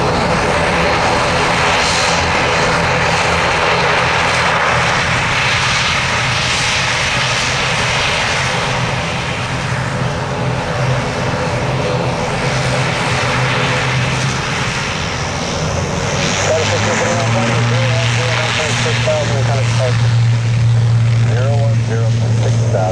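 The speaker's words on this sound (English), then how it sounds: "American Airlines calls it the pink plane." An American Airlines jet departing Tampa International Airport roars loudly and continuously, its engine drone shifting in pitch as it climbs away, with a person talking faintly over it.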